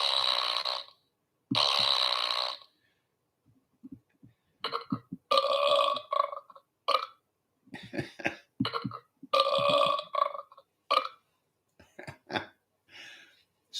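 A sound-effect box plays repeated loud burps, several long belching bursts separated by short pauses, followed by a series of shorter, choppier belch sounds.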